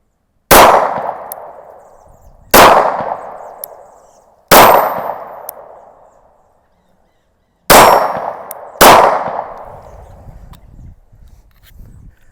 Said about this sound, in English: I'm just gonna put about 5 rounds downrange here at the targets.